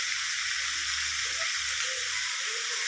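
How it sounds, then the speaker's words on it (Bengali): Steady close sizzle of a chicken stew pan as papaya and carrot go in, a broad hiss running throughout with low bumps from the added vegetables and no talking. "এবার দিয়ে দিচ্ছি পেঁপে দিয়ে দিচ্ছি গাজর"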